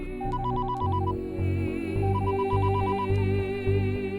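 A phone ringtone chimes in repeating electronic bursts over a steady, loud backing tone.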